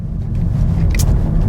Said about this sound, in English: I'm just driving away.